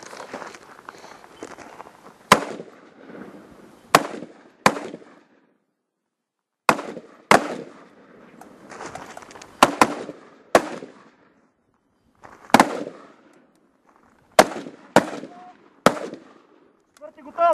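At a commando shooting challenge in Bulgaria, sharp gunshots crack one at a time on command, a dozen or so spread irregularly, some in quick pairs, with shouted orders and footsteps in between.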